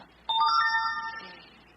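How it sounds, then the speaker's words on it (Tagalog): A phone's text message notification plays once: a bright chime of a few stacked tones that rings out and fades over a second, with faint background hiss. "Oh, may text message ko."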